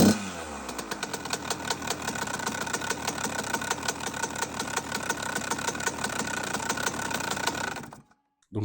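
A 50cc motorbike fitted with a 100 Fast engine is started and runs with a loud, abnormal rattling clatter. The dense, rapid mechanical knocking holds steady for about eight seconds and then cuts off abruptly, with no talking.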